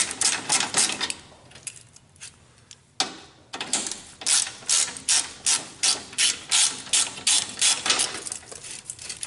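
A hand ratchet works 1/2-inch bolts off the engine shroud of an MTD GT2050 mower, giving fast close clicking runs that break off, then settle into a steady repeated cranking rhythm, with no talk.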